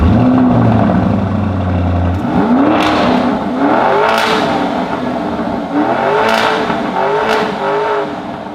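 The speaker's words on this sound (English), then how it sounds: "I want you guys to hear this car because it still does sound awesome despite it having nothing special on the exhaust." Sports car engine and stock exhaust revving repeatedly, loud and close, with rising and falling pitch sweeps in several bursts over a steady running drone.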